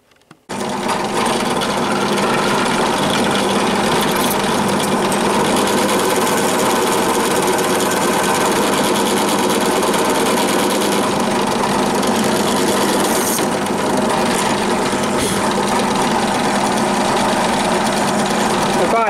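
A loud, steady machine whir runs continuously close by, with a constant mechanical hum and faint rattling, as a lathe spins while a sharp drill bores brass motor parts.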